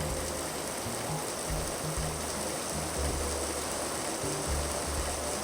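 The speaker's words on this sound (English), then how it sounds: "like /set weather rain" Steady rain from the weather in the Minetest video game, a constant full-band wash of falling water with low rumbling pulses beneath, even and unbroken throughout with no talking.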